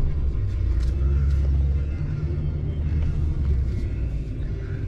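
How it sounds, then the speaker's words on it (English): A pickup plow truck's engine rumbles steadily while pushing 5–7 inches of snow across a residential driveway, a deep continuous drone close by with no talk. "turn the truck around and push the snow across the street"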